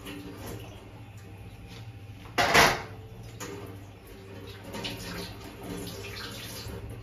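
Butternut halves rinsed under a running kitchen tap, heard as a short, loud burst of splashing water near the midpoint, followed by faint clatter and low background noise.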